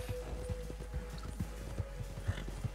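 Horse hooves clip-clop at a steady walking rhythm in a video game, moderately close, with a low constant background hum and no talk over them.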